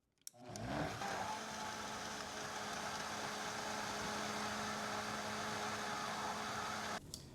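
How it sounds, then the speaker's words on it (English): A Ninja Creami machine spins a frozen açaí base sweetened with a little stevia, giving a steady, loud motor whir with a low hum that runs without a break for about six seconds, then cuts off sharply. "give her another spin"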